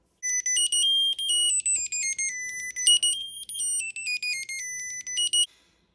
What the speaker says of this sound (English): you can play the sound from your Find My app. It's very loud.